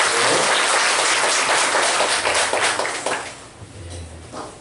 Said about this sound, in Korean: 박수로 한번 더 환영합니다.